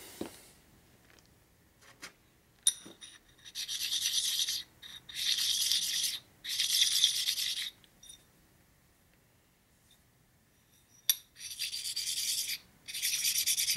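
Repeated bursts of gritty rasping as a metal oil pump part from a 2003 Indian Chief 100ci Power Plus engine is rubbed back and forth on a sharpening stone to flatten it, in several strokes separated by short pauses.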